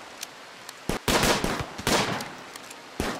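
Rapid gunfire from a RimWorld firefight: a few sharp isolated shots, then dense bursts of crackling automatic fire, close and loud, ending with one more shot.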